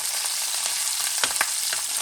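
Artichokes and other vegetables for a vegetable paella fry in a pan with a steady loud sizzle, broken by a few quick stirring scrapes, close up and with no voices.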